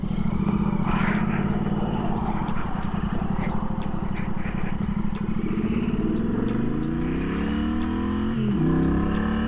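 A Royal Enfield motorcycle engine thumps at low revs, then rises in pitch as it revs through a U-turn on gravel, loud and close with a steady pulsing beat and a brief dip near the end.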